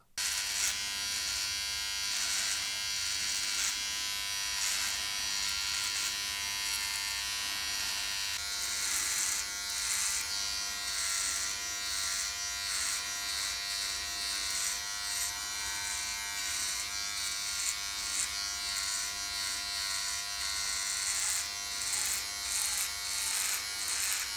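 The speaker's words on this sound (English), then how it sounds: "I trimmed my whole beard without a guard." A T-Blade trimmer by Red by KISS runs without a guard through a full beard, giving a steady, close, loud electric buzz that holds for the whole stretch with small rises and dips as it cuts.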